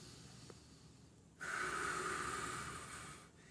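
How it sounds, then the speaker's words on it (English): One slow, deep breath taken during a mobility stretch: a quiet lead-in, then a close, airy exhale hiss lasting about two seconds that fades out at the end. "Nice, slow, deep breaths."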